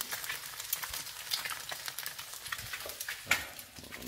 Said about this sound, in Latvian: Lūk, cepās manas pēdējās dienas brokastis,